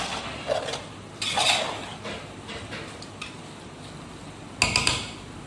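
Metal spoon scraping and clinking against a pot and dish while chicken macaroni is served out, a few short clattering bursts separated by quieter handling sounds, no talk.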